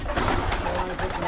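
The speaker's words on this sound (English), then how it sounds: "This is the prettiest bird we have, I think." Pigeons or doves coo softly on a farm, a continuous low burbling from birds close by, mixed with rustling and general yard noise.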